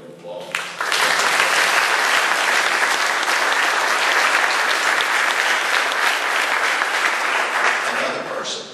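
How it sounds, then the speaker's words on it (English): Audience applause at an agricultural school event for a governor's speech: a brief voice, then a sudden burst of dense clapping that stays loud and even for several seconds before easing slightly at the end. "I think both of them deserve a round of applause."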